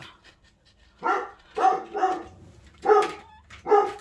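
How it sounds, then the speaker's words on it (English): A dog barking outside on a street, about six sharp barks in irregular bursts, moderately close and clear with no talking. "So that dog keeps barking"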